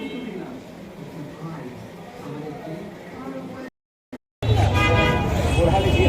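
Car horns honk amid road traffic in a jam, with short toots over a rumbling roadway din. Voices talk throughout, and the sound drops out briefly before louder, nearer traffic returns.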